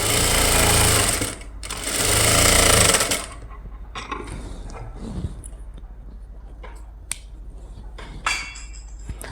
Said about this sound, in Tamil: இப்போது அடுத்த தையல் போட்டுடுறேன்